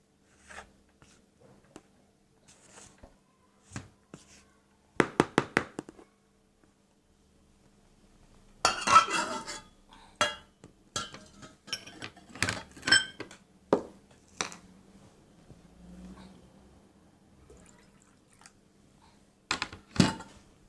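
A spoon works carob and barley flour bread dough in a bowl, giving bursts of scraping and knocking strokes separated by pauses, close and fairly quiet, with no talking.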